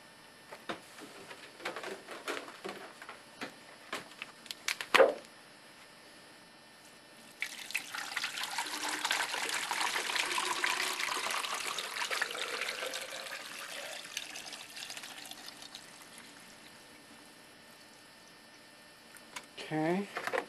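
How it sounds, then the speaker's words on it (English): Distilled water poured into a hydrogen cell makes a steady splashing trickle for several seconds, quiet and close, after scattered small clicks and knocks. "I'm going to be using distilled water in here."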